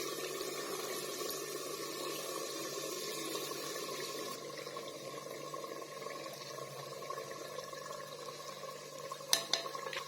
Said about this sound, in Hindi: तो अभी हम इसके अंदर जो हमारे पास दोनों दालें हैं वो डालेंगे।